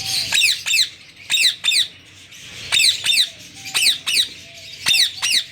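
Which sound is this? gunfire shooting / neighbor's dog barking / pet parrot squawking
pet parrot squawking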